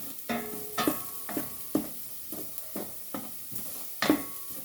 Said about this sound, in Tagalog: Malapit-lapit na pong mag-brown ang aking bawang.